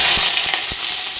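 Chopped onion hitting hot oil in a pan with dry red chilli and black cumin, a loud, close hiss that fades slightly, marked by three or four soft stirring knocks.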